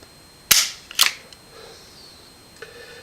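A new 2017 Colt Cobra revolver dry-fired single-action on a trigger gauge: a sharp metallic click, then a second click and ringing snap about half a second later, close and loud, with a faint tick near the end.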